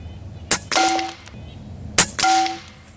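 Two shots from an Airmaks Arms Caiman X regulated bullpup PCP air rifle with a CZ barrel, each a sharp close crack followed shortly by the smack of the pellet hitting a metal target that rings briefly.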